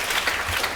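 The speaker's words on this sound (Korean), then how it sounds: "박수 좀 부탁드립니다" Brief, steady applause from a seated audience at a public deliberation debate forum in Changwon, an even patter of many hands clapping.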